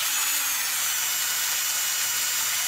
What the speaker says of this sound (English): So I'm just going to put it in my drill like that.